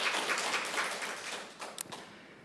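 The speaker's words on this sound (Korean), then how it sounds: "서로 환영하고 오늘 은혜 많이 받기를 서로 기원하면서 박수 한번 보내주시기 바랍니다" Church congregation applauding during a special prayer meeting, a dense wash of clapping that gradually fades, ending with a few isolated claps.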